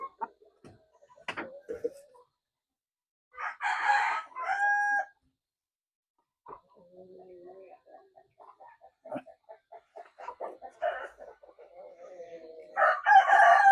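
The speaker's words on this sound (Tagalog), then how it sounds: "Ito yung hen. Light Brahma." Light Brahma hens and other chickens cluck and call in a backyard farm, with a rooster crowing loudly nearby between softer rhythmic clucking and quiet gaps.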